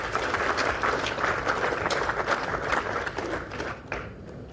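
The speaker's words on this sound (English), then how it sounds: "I thought she would deserve a clap for it." Audience applauding at a memorial lecture, a steady wash of many hands clapping together for several seconds at moderate distance.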